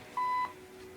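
A single electronic beep from a recording device, a steady mid-pitched tone lasting about a quarter second, clear and close against a quiet background hum.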